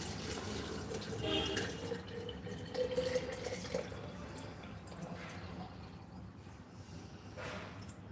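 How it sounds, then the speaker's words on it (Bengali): Several glasses of water are poured into a detox drink mixed with chia seeds, a fluctuating splashing trickle that runs on and off, loudest early and fading later. "আমি এখন 3 থেকে 4 গ্লাস পানি দিয়ে দিব"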